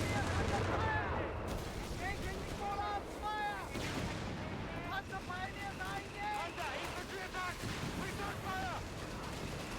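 Artillery barrage in the Company of Heroes 3 strategy game, repeated booming shell impacts and blasts rolling under a continuous excited commentary voice.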